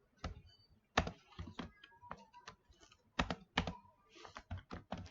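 Bursts of keystrokes on a computer keyboard, tapped in short irregular clusters with brief pauses, close and fairly quiet with no talking.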